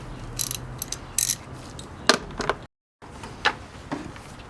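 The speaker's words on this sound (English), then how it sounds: "But first we're going to take off the three 10mm bolts" Three 10mm bolts are removed from a GSXR sport bike with a ratchet, giving bursts of quick clicking and metallic rattles, close and fairly quiet, with a short silent gap partway through.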